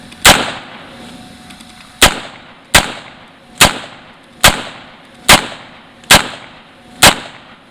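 AR-15 rifle firing .22 rounds outdoors, eight sharp loud shots spaced roughly a second apart, each with a short decaying echo.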